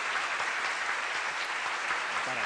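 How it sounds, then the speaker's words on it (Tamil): A studio crowd at a Tamil debate show claps in a sustained, even burst of applause, moderately loud and continuous throughout, with a voice briefly surfacing near the end. "உற்சாகமான கரகோஷம் கொடுத்து"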